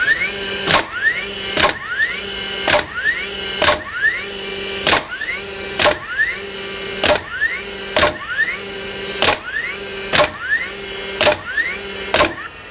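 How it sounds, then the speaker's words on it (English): A DeWalt DCN21PLM1 cordless 21° framing nailer bump fires twelve 3 1/4 inch nails in steady succession, each a sharp loud crack preceded by a rising whir of the motor spinning up, evenly spaced about a second apart. "So I've got enough nails in here, so I'm gonna go ahead and bump 12 nails."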